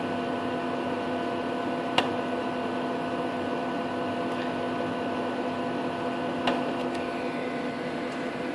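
Xerox Phaser 6180 colour laser printer whirring steadily as it calibrates after a toner cartridge change, a constant mechanical hum broken by a few faint clicks.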